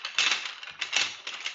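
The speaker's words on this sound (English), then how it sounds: "Shuffle your bricks around." Plastic toy bricks are shuffled about on a surface, making a busy, dry clatter of clicks and knocks in several bursts, close by, with no talking.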